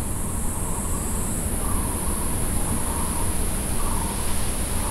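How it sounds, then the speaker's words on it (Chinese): Cicadas drone in a quiet home garden courtyard, a steady high-pitched buzz that holds without pause over a soft background hiss, with a faint wavering tone pulsing underneath. "你听得到蝉的声音。"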